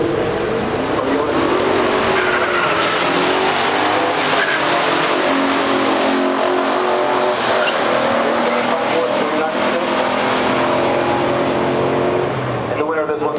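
Two classic muscle cars, a 1967 Pontiac GTO in Sydney Gold and a 1969 Chevrolet Chevelle SS, roar steadily in a stock drag race, a loud continuous engine drone with shifting pitch and tire noise under commentary.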